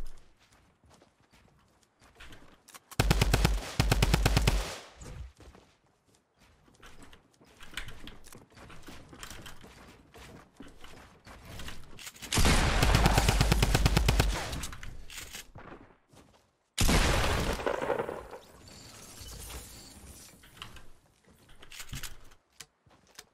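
A Tommy gun firing in the Fortnite video game, with several loud rapid-fire bursts separated by quieter stretches, heard up close.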